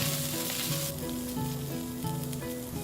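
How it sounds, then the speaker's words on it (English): Masala powders roast in a pan for Vada Kootu Curry, a loud, close, continuous sizzle with a spatula scraping and stirring in repeated strokes, no voices. "Then stir the ingredients together while at the same time roasting the masala"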